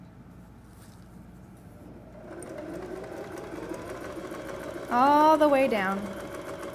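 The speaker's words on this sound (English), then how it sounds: "I'm just going to sew like I normally would. Just a nice straight stitch." An electric sewing machine runs a straight stitch through curtain fabric, starting after about two seconds as a steady whirring hum and surging louder near the five-second mark, with a person speaking briefly at the start.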